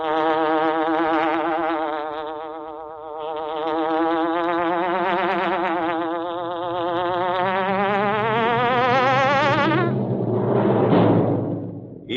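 Loud, sustained buzzing of a hornet as a radio-show sound effect, a wavering drone that rises and swoops in pitch for about ten seconds before breaking into a rougher rush at the end.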